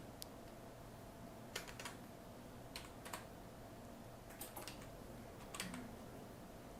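Computer keyboard keys click in scattered short bursts of a few taps at a time, quiet and close over a soft background hiss, with no speech.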